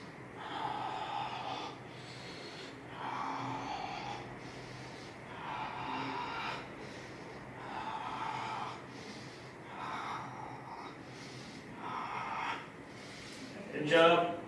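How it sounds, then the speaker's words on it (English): During a strength-training workout, a person breathes heavily in a steady rhythm, with long forceful breaths repeating about every two seconds, loud and close, and a sharper gasp at the end. "Inhale and exhale."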